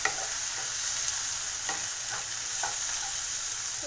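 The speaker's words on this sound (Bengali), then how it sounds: "টমেটোটা দিয়ে একটু ভেজে নেব।" Onion and tomato fry in a pan with a continuous, fairly loud sizzle and light stirring scrapes throughout. No voices.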